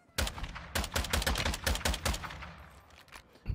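Rapid gunfire from a video game, a dense string of sharp shots in quick bursts that fade toward the end, loud and close with no talking.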